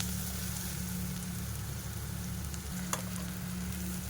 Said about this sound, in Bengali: এখানে আমি রসুনটাকে ভালো করে ভেজে নিচ্ছি যতক্ষণ না রসুনের কাঁচা গন্ধটা যাচ্ছে